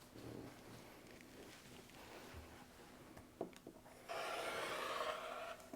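A blade trims the edges of a fabric quilt block on a cutting mat, with faint scraping and rubbing, a few soft taps, then a steadier rasping stretch near the end, quiet and close.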